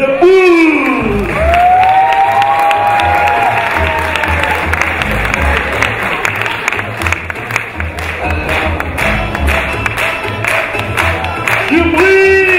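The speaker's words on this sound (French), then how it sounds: "Alors, sous vos applaudissements" A live audience at a French comedy show claps and cheers for a performer, with loud, sustained applause and whoops filling the room for over twelve seconds, a host's voice briefly audible at the start and end.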